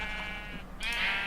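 Sheep bleating in a Minecraft-style video game, a brief wavering game bleat followed by a second brighter bleat, set against a steady background tone.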